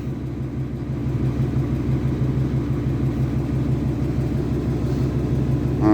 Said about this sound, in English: Come on, truck noise, giddy up.